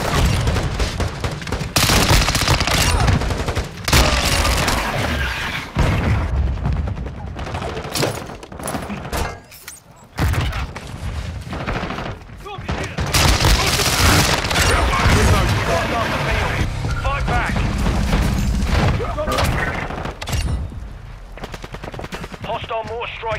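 Sustained gunfire fills a Call of Duty: Modern Warfare match, with dense machine-gun bursts, booming frag grenade blasts and a brief lull near the middle before the firing resumes.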